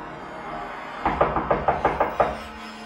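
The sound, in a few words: frantic knocking on a door, sound effect in an audio story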